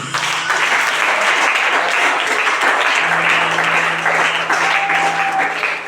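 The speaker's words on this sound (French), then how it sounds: "Acclame Jésus" A church congregation applauds at a worship service, with dense, sustained clapping filling the space loudly and evenly throughout, plus a faint voice or tone underneath.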